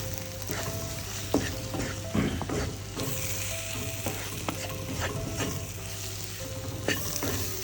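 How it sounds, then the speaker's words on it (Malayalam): Onion and garam masala stir-frying for a Kerala crab roast, a continuous close sizzle with repeated scraping and clinking strokes of a spoon against the pan. "മസാലയുടെ പച്ചപ്പ് മാറുന്നവരെ നമുക്കൊന്ന് സവോളയായിട്ട് മിക്സ് ചെയ്തെടുക്കാം"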